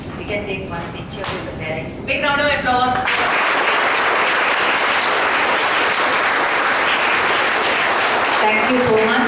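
Applause from an audience for Om Gupta and his parents at a stage event, starting as a voice speaks over it, then swelling into steady, full clapping that continues to the end.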